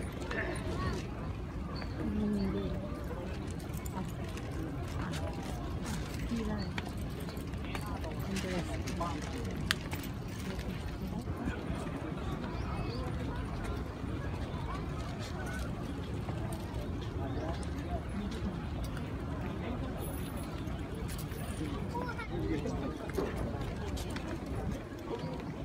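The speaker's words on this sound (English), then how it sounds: "they let the horses go out for a little bit of a walk to get them ready" Racehorses walk around the paddock at Kyoto Racecourse, their hooves clip-clopping faintly and continuously beneath a steady crowd murmur, with people talking nearby throughout.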